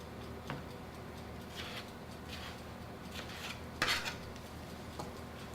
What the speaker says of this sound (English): she's dicing the tomatoes right now